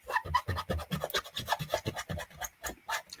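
A new rubber craft stamp is rubbed briskly back and forth to condition it, giving a steady run of close, soft scratchy strokes in a quick, uneven rhythm with no talking.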